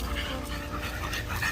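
Dogs, including adult pit bulls, playing together with steady panting and small whimpers close by, a continuous rough breathing texture throughout.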